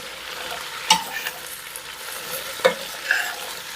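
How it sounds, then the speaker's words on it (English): Garden-fresh green beans sauté in butter and bacon with a steady soft sizzle, broken by a couple of sharp spoon scrapes and stirs against the pan, close up with no talking. "we're going to just let these saute. I'm going to stir, make sure nothing's burning"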